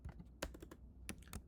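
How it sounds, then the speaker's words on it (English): Quick keystrokes on a computer keyboard while code is written in a Flutter layout tutorial, a few irregular sharp clicks and clacks up close with no speech. "start typing container"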